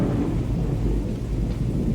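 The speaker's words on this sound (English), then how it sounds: "There's a bad storm building up out here." A film thunderstorm rumbles with low, rolling thunder under a constant wash of heavy rain, loud and continuous for the whole stretch, with no voices.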